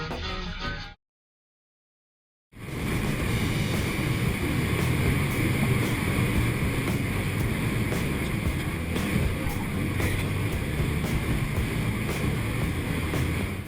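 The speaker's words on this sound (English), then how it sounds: "Waves crash, winds howl," Ocean waves crash around a ship at sea, with a dense, steady roar of surf and howling wind, broken by a brief gap of silence near the start.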